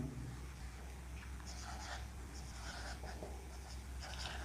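A pen scratches across paper while a Class 10 maths solution on real numbers is written out, in soft, close bursts of strokes over a faint steady hum.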